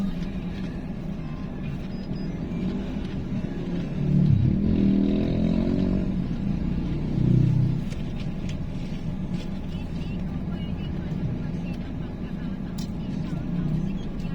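Congested traffic crawls along the Porac bypass road in Pampanga, a low steady road rumble with a nearby engine swelling and revving twice, while a person talks over it.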